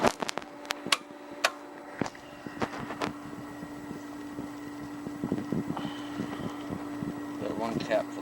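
A faulty Aqua Comfort pool heat pump, whose compressor will not start, runs its noisy fan with a steady droning hum and scattered clicks and rattles. Someone talks over it.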